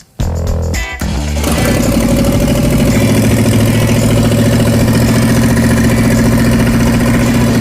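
A 1968 Ford Mustang Mach 1 engine cranks briefly, catches, and settles into a loud, steady idle with a constant low rumble, close and continuous.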